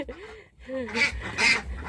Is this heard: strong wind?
no